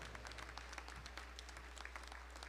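A church congregation applauding during a Sunday morning service, a steady, faint patter of many hands clapping over a low constant hum.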